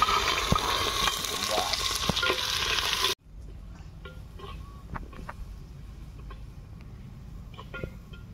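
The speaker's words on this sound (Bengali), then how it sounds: "নিচে গোটা গরম মশলা, শুকনো লঙ্কা, তেজপাতা ফোড়নে দিচ্ছি" Whole garam masala, dried chilli and bay leaf sizzling in hot oil in a clay pot, a dense frying hiss that drops suddenly to a quieter crackle with scattered soft pops.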